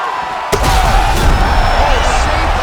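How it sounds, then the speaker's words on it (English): A knockdown and the round-ending horn in the EA Sports UFC 5 fighting game, a sharp loud impact followed by a sustained blaring horn with crowd noise beneath, bright and continuous to the end. "He got knocked down just before you heard the horn."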